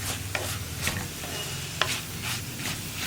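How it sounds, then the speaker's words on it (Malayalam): Snake gourd thoran stirred in a pan on low flame: a spoon scrapes and clinks against the pan in several strokes over a soft continuous sizzle, close up, with no talking. "നമുക്കിനി ഇതൊന്ന് ഇളക്കി കൊടുക്കാം"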